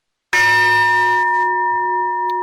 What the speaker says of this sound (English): Let's hit it one more time. Studio-size gong.